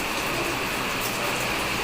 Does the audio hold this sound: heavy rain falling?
yes